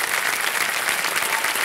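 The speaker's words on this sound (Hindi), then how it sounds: "तालियां बजाएं उनके लिए।" Studio audience applause on the TV quiz show Kaun Banega Crorepati Season 14: a steady, dense wash of clapping that holds at an even level throughout, with no voices on top.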